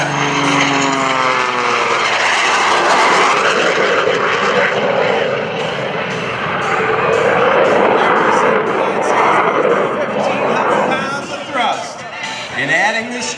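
Screamin' Sasquatch, a Jack Link's Jet Waco biplane with a Pratt & Whitney 985 radial turning three-bladed Hartzell propellers plus a CJ610 jet engine, roars loudly overhead at an airshow in a sustained propeller and jet blast, with a crowd faintly behind.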